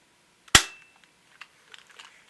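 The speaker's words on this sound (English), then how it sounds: "This is the dry fire." A spring-powered airsoft PPQ pistol dry-fired with no pellet, giving a single sharp, loud snap that decays quickly, then a few faint clicks and handling noises.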